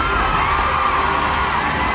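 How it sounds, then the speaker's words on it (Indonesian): An audience at a school prize announcement for an educational teaching-aid competition cheers and shouts, with children's voices prominent in a steady, loud crowd roar. "Tepuk tangan semuanya."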